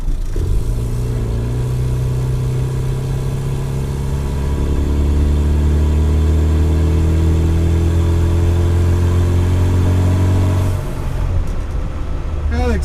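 The engine of a 1992 Rover Mini Cooper S replica runs close by, humming steadily with a low drone that rises and falls slightly before settling.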